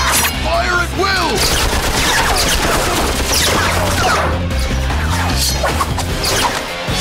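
Loud cartoon gunfire rattles in rapid volleys, mixed with crashes, whooshing effects and a brief shout, dense and close.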